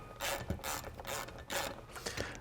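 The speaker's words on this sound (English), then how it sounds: "Snug all the bolts down in a crisscross pattern." A ratchet snugs down brake mounting bolts during a front disc brake install on a Jeep Wrangler, rapid clicking in repeated short strokes, close and fairly loud, alone.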